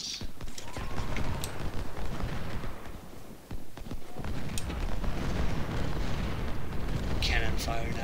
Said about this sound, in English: Cannon fire now